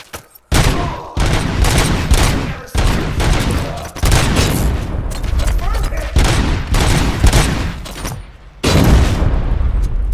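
Heavy gunfire in the video game Robocop: Rogue City, loud sustained bursts of automatic shots and booms filling the scene in long stretches with brief gaps.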